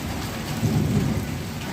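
Steady rain patters on surfaces while a deep roll of thunder builds in the middle and fades, heard alone without voices.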